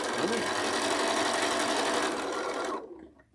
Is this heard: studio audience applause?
no